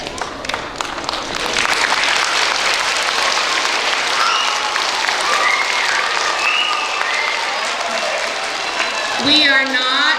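Schoolchildren at a school assembly clap and holler in a loud, sustained wave of applause filling the room, with voices shouting over the clapping throughout and a brief lull near the end.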